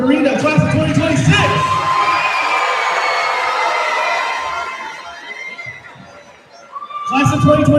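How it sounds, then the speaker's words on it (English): A graduation crowd cheers loudly with whoops and shouts, the roar fading into scattered applause and voices before swelling again at the end. "let's give one final round of applause for Marina, class of 2026"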